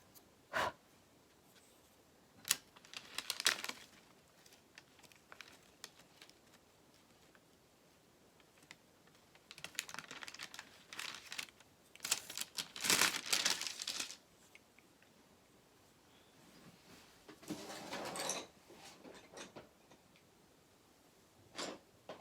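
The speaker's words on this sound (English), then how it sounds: "Going through my pencils here, you can hear me digging through my drawers." Colored pencils rattle and clatter in drawers during digging, heard as scattered bursts of wooden clicking and shuffling with quiet gaps between them.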